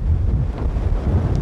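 Typhoon-strength wind roars and buffets the microphone at a Hong Kong beach, with heavy surf of person-high waves crashing in a loud, constant rumble.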